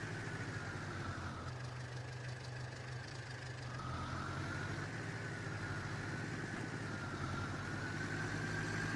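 A tractor engine in Farming Simulator 22 idles and drones steadily with a low, continuous hum, its pitch shifting slightly partway through, with no talk over it.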